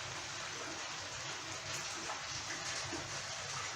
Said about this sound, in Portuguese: Olha que chuvinha boa.